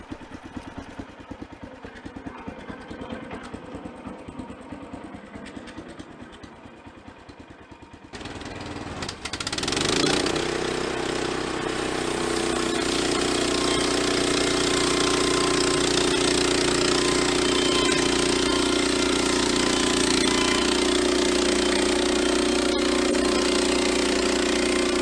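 A sawmill with a fresh blade starts up after a few quieter seconds, then settles into a loud, steady engine roar with a continuous cutting drone that holds close and unbroken to the end.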